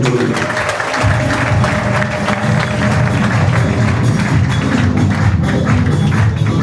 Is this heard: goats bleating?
no